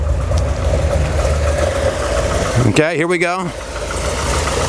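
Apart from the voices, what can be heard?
Pontiac G8 GT engine running at idle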